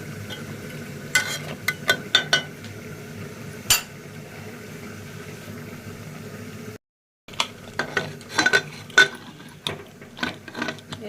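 Cauliflower curry cooking in a pan gives a low steady sizzle, broken by sharp clicks and clatters of utensils and a brief drop to silence midway.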